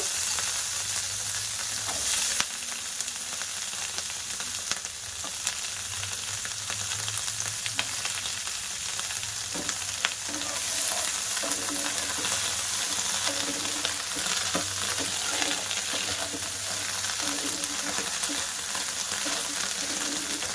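Onion stalks fry lightly in a little mustard oil, giving a steady close sizzle that runs throughout, broken by occasional stirring clicks and small pops.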